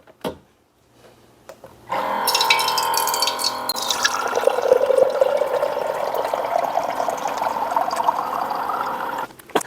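Water poured into the carafe of a Presto rapid cold brewer, a steady close splashing and trickling stream that starts after a brief knock and continues to the end.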